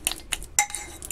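A fork clinking against a bowl while beating icing, a few quick, light metallic taps in short succession, close and fairly quiet.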